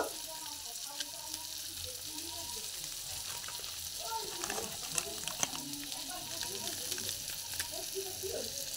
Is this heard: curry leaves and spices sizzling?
yes